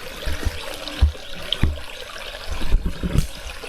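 Clear water flowing over rocks in a forest stream, a steady close trickle and splash with irregular bubbling bursts, no voices.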